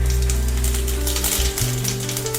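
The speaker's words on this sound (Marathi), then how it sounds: "जिरे टाकून घेते" Cumin seeds sizzling in hot oil in a kadhai for a tempering, a close bright crackle over a loud low mechanical hum with shifting tones.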